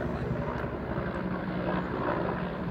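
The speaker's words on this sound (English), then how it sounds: "I don't know if you can see, but there's a helicopter." A helicopter flies overhead, producing a steady, full-band rotor and engine rumble that holds at an even loudness throughout, with no speech.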